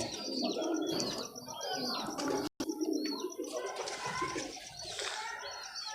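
Pure Kamagar pigeons cooing steadily with scattered chirps and light rustling movement, close and continuous, broken only by a brief dropout.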